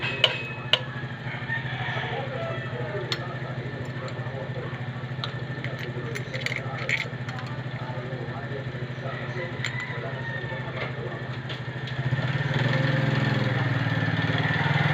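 A Mitsubishi 4D30 diesel engine converted to a 4D32 idles in a workshop during tuning, a steady low rumbling chug with some clanks and rattles, growing louder near the end while someone talks over it.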